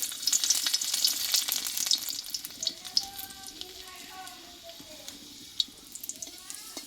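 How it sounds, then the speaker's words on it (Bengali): Garlic cloves frying in a generous amount of oil in a pan, with a bright crackling sizzle under faint tonal background sounds and a few sharp clinks, up close. "এইটা আমি একটু ভেজে নেব তেলে"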